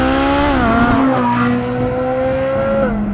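Ferrari sports car engine, an F12 TDF or Speciale Aperta, singing loudly from close by while driving, its strong tone rising then settling as revs shift.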